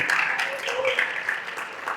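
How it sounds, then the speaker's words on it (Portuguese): A church congregation claps during worship, giving a steady dense wash of applause beneath a voice that carries over it. "Aplauda com intensidade, porque Ele é digno"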